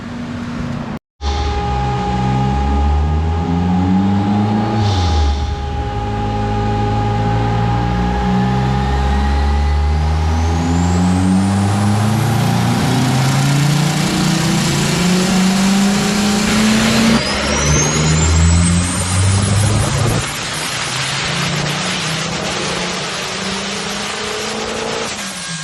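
A 400 HP turbocharged K24A engine in an all-wheel-drive Honda EK sedan roars loud and close through a sustained tuning pull, its pitch climbing steadily over several gear-like rises with no speech.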